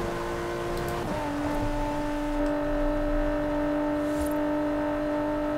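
A Range Rover Velar in Forza Horizon 4 drives toward the highway, its engine holding a steady, loud drone with a shifting pitch around the first second and a constant hum after.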